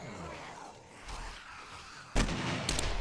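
Two booming shotgun blasts in the video game 7 Days to Die, a softer one followed about a second later by a louder, sharper report with a short rumbling tail, over quiet game ambience.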